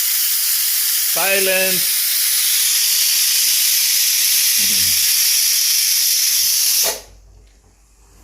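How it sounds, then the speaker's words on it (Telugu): A pressure cooker with sambar inside lets off a loud, steady hissing whistle of steam for several seconds, then cuts off abruptly. A brief voice speaks over it partway through. "అదిగో ఆ సాంబారు కుక్కర్లో అరుస్తూ ఉంది"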